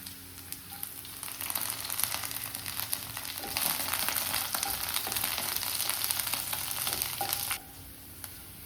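Curry leaves hit hot oil with garlic in a pan for chicken cutlet filling, giving a loud, crackling sizzle that swells when the leaves go in and settles to a steadier fry.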